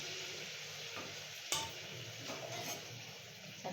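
Milk-and-flour-coated bread slices, seasoned with cardamom, sizzle steadily in hot oil for a sweet bread dessert, a close, continuous frying hiss with a couple of sharp pops and clinks along the way.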